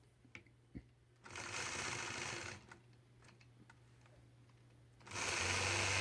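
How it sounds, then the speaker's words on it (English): Home sewing machine quilting curved lines on a quilt block along a 4-in-1 ruler, running in two steady buzzing bursts separated by a quiet pause with a few clicks and taps. "I'm going to repeat that process, stitching curved lines using the largest side of the 4-in-1 ruler"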